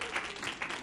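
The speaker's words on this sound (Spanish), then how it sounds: "necesito un fuerte aplauso para los líderes del proyecto" Brief burst of applause from an audience at a literary café event honoring the project leaders, steady clapping lasting under a second at moderate level.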